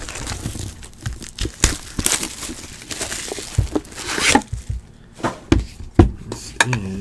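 A 2016 National Treasures baseball card box is opened, its wrapping torn and crinkled in close, busy bursts of ripping and crumpling with scattered knocks.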